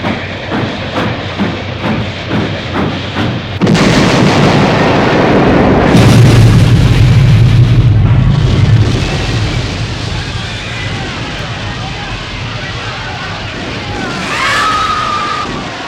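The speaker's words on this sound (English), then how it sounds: "The low thud of the trains contacting should have been clear and solid, without booming or bottoming." A staged crash of two trains colliding at about 70 on a stereo test record: rhythmic clacking of the approach, then a loud booming impact with a rumbling, crunching aftermath that fades, a late screech, and a voice narrating early on.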